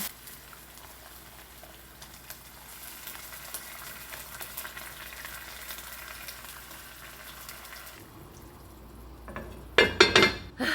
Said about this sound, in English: So I'm gonna let that simmer for a few minutes